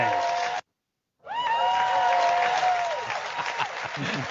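An audience bursts into applause after a short gap of silence. Dense clapping stays loud and steady for several seconds, with faint cheering mixed in.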